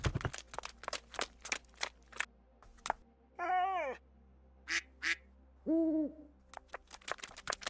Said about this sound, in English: Oh my god, it's a duck and an owl.